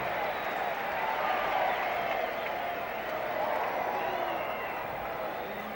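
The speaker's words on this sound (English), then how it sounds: "The reason you're hearing that intermittent roar from the crowd is down behind the screen." Crowd noise from a 1967 Twins at Red Sox baseball game at Fenway Park forms a steady, broad roar that swells and eases, with a broadcaster's voice audible over it.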